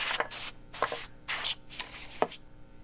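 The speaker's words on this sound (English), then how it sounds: "I'm going to use my compressed air to try to blow some of it away" Short bursts of compressed air hiss over a mid-60s Gibson Melody Maker guitar to blow away dust, about five quick sprays separated by brief pauses, close and fairly quiet.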